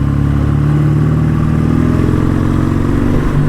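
A BSA A10 Super Rocket motorcycle engine runs steadily and loud at close range at a field display, with a continuous throbbing exhaust note and no speech.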